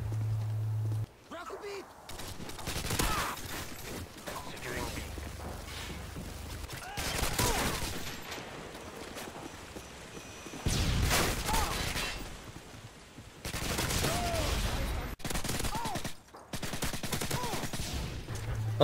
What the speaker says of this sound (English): at number 3 we have the UMP-45 and the ACR for Modern Warfare 2